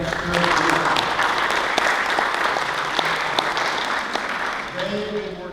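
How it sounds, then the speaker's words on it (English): Audience at a public drainage district meeting claps steadily for several seconds, a dense even patter of many hands in a room, with a voice talking faintly near the end. "A little hand of applause."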